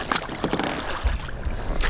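Oars splash and knock as someone rows a small boat by hand, a few close watery strokes over faint wind and ambient noise.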